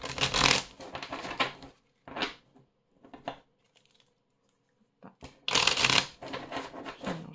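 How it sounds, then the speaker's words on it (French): Tarot cards being shuffled by hand, close and crisp: two dense bursts of riffling with shorter slides and taps between them and a quiet pause in the middle. "Je mélange les cartes."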